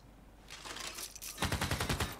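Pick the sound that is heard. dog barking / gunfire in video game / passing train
gunfire in video game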